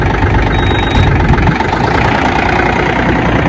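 Mahindra Oja tractor engine running steadily nearby, a continuous loud low rumble with no talk over it.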